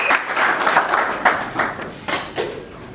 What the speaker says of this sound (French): sur nos applaudissements, nous encourageons le meilleur présentateur